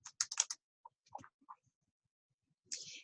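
Quick bursts of typing on a computer keyboard during spreadsheet work: a close cluster of crisp key clicks, a few scattered single taps, a short pause, then another brief flurry of keystrokes, all in a quiet room.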